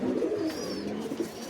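A flock of desi loft pigeons, Giribaz and teddy fancy breeds, coos in a steady low burbling chorus, close and continuous with no voices.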